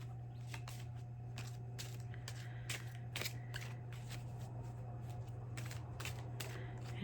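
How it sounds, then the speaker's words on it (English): Oracle cards being shuffled by hand, a continuous run of crisp, close riffling and slapping bursts that keeps an uneven rhythm for several seconds, with no talking. "Give it a good shuffle."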